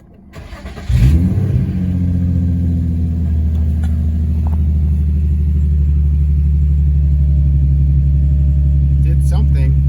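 An Infiniti G35 / Nissan 350Z engine cranks and starts after a starter replacement, catching with a sharp rise about one second in, then settling into a steady, loud, close idle rumble that holds to the end.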